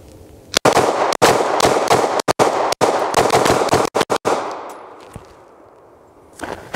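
Rapid gunfire from a gun fitted with a G-Flex trigger: a long, loud, close string of quick shots fired in fast bursts, then fading to quiet with one final report at the end.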